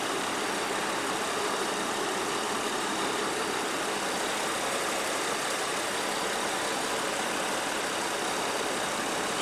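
A John Deere 210 garden tractor engine being revived runs steadily at a constant rough drone, close and fairly loud throughout, with no talking.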